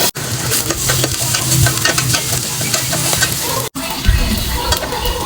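Aromatics for misua with patola sauté in a pan, a steady close sizzle with scraping stir strokes throughout and two brief cutouts, with no voices.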